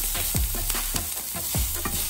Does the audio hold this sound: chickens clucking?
no